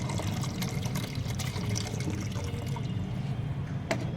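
Water is poured steadily into a homemade banana fertilizer mixture, a continuous quiet splashing and trickling that runs throughout without pause.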